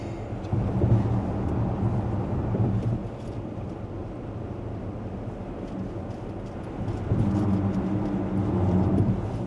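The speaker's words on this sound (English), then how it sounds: "like a little bit of tire noise on the louder road surface" Steady low road rumber and tire roar fill the cabin of a 2025 Ford Explorer ST RWD on a louder road surface, a continuous broadband drone that swells slightly at the start and end, with no talking.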